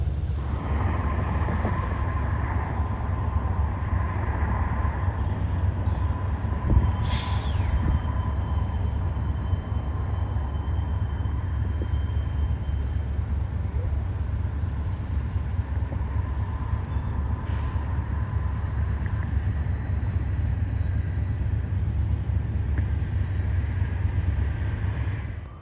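BNSF freight locomotive 2955 moves across the Galesburg rail yard with a continuous low rumbling drone, steady and moderately distant, and no voices.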